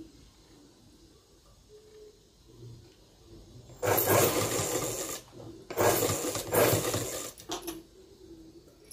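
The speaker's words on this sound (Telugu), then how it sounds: "ఒక కుట్టు అనేది వేస్తున్నాను." Sewing machine stitching school uniform cloth, two loud runs of fast mechanical whirring, each about a second and a half long, separated by a short pause, near and alone.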